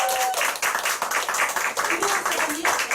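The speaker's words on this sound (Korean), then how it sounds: "박수." Audience clapping at a group meeting and award ceremony, steady crowd applause over three seconds with a voice speaking over it.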